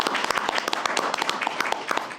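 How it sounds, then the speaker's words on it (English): Applause at a city council meeting in Oldsmar: brisk, moderately loud clapping from a small crowd, dense and steady for about two seconds. "Just give them a round of applause."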